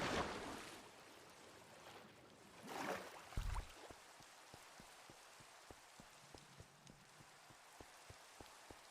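Rain in a video game falls steadily with a soft hiss, scattered individual drops tapping nearby, and a brief louder whoosh early on; no voices.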